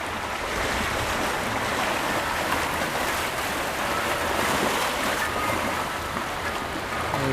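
Atlantic Ocean surf off the Maine coast with wind, a steady broad wash of waves and gusts that rushes continuously without breaks.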